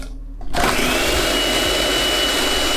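Food processor whirring graham cracker crumbs with melted butter, cinnamon and sugar for a pie crust, switching on abruptly after a brief silence into a loud, steady motor roar.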